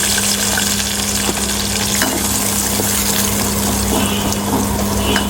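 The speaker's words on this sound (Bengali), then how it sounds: "তারপর দেব পেঁয়াজ কুচি" Chopped onion frying in a pan with bay leaf after fish has been fried, a loud, continuous close-up sizzle and bubbling hiss with a steady low hum underneath.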